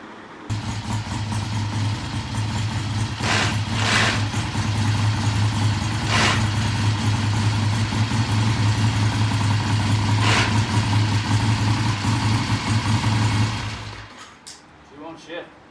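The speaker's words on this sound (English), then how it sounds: "it's idling pretty nicely. It's revving nicely." A Triumph motorcycle engine idling with a steady low rumble, punctuated by a few short revs, close and loud before cutting off near the end, with someone talking over it.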